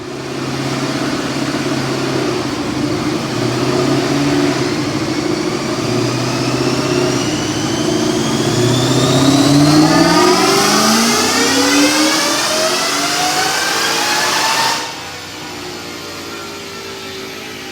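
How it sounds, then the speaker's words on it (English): A 2014 Mustang GT automatic with a VMP 2650 supercharger makes a dyno pull on 93 octane: a loud, close engine climbs steadily through the gears with rising supercharger whine, then abruptly lifts off and settles lower. "Check out this dyno pull."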